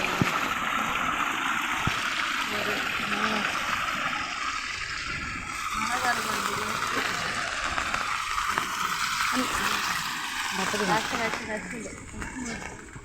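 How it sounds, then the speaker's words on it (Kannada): Rainwater from heavy wind and rain pours into a paddy field with a continuous rushing, gurgling flow close by, while people talk over it throughout. "ನೋಡಿ ಎಷ್ಟು ನೀರು ಬರ್ತಾ ಇದೆ"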